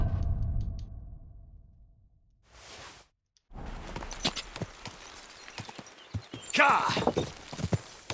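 Horse hooves clip-clopping in the video game Kingdom Come: Deliverance 2, a run of sharp hoof beats after a brief gap, with a whinny nearby and a player talking and shouting over the gameplay.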